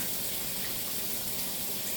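Water poured from a container into a cooking pot of simmering oxtail, a steady continuous splashing gush lasting throughout, close and fairly quiet.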